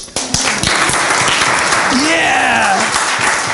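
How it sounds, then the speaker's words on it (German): Audience applause at a German Freeman gathering, loud dense clapping filling the room with cheering voices and a shout over it throughout. "bitte Applaus."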